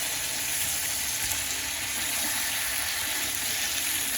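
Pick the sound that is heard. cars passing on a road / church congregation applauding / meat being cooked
meat being cooked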